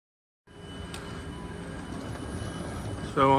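A train at Rotterdam Central Station rumbles with a steady low roar after a silent start, rising slightly, then a brief high wheel squeal near the end.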